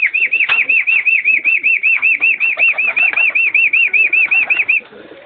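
Racing pigeons in a club loft beat their wings in a steady, rapid series of flaps, about twenty close, loud strokes in a row, alone for nearly five seconds before fading.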